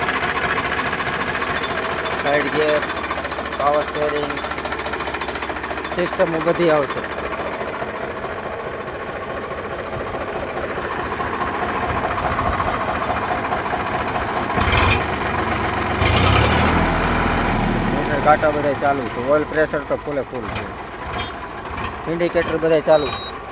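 A 2012 Sonalika DI 42 RX tractor with a 45 hp engine idles nearby with a steady rattling chug. A person talks over the engine for most of the time.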